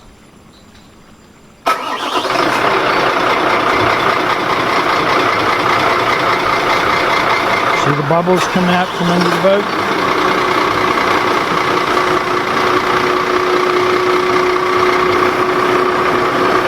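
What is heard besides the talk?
boat engine idling while warming up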